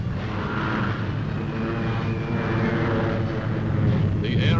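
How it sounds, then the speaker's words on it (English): Low-flying warplanes roar steadily overhead during a napalm bombing attack on a jungle in Vietnam, a dense continuous drone with no pause, loud and near throughout, with no speech. "concentrated napalm bombing from low-flying planes, which strafe an entire section of the jungle"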